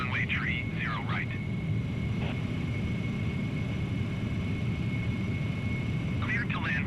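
Simulated Concorde jet engines in Microsoft Flight Simulator, afterburners on, give a steady broadband roar with a thin high whine throughout, while radio-style voices speak briefly at the start and end.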